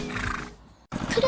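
A horse in an animated farm cartoon neighs twice in short whinnying bursts, with a brief gap between them, fairly loud and close over faint background sound.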